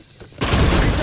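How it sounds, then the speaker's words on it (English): A plasma caster weapon fires in a video game, a sudden loud, dense roaring blast that starts sharply and holds steady to the end. "Equipping plasma caster. Trying to fire."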